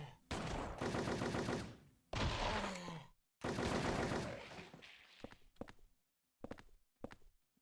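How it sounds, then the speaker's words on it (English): Gunfire from Eileen's weapon in Silent Hill 4, a video game: several loud, sharp shots in bursts with ringing tails, broken by short quiet gaps, then fainter scattered impacts toward the end. "Eileen, what are you shooting at?"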